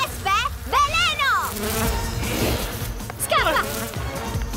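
Swarm of wasps in an Italian animated cartoon, a steady buzzing drone under excited cartoon voices and whooshing effects, fairly loud and continuous.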